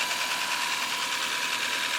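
A rebuilt Toyota Corolla 7AFE engine from a 1994 car runs steadily at idle, a smooth even hum with a fine mechanical patter, close and constant throughout.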